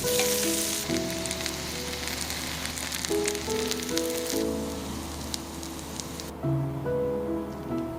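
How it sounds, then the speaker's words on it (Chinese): Squid sizzles and crackles in hot chili oil in a steady hiss, with music playing softly underneath. "来煎个鱿鱼，用油泼辣子做底油"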